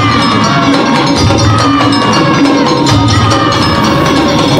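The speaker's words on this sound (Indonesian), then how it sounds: "Beri tepuk tangan dan sorakan yang meriah" A large crowd claps, cheers and whoops loudly and continuously for a pencak silat martial-arts performance at a pesantren ceremony, shrill children's shouts rising over the steady roar.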